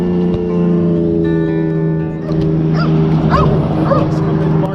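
A dog barks somewhere up the road during a Saturday motorcycle ride near the Foothills Parkway on a windy day, the yips faint and distant over a steady engine drone and wind.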